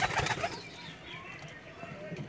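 A Madras pigeon coos softly at a Kolkata loft, low burbling calls mixed with a brief wing flutter under someone talking nearby.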